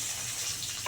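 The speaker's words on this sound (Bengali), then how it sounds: "একটা একটা করে ভালো করে কড়া করে ভাজা হবে।" Fish frying one piece at a time in hot oil in a wok gives off a steady, even hiss of sizzling with no talking over it.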